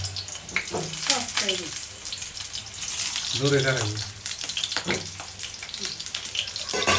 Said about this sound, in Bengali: তেল গরম হয়ে গেছে এই পটল গুলা ভাজবে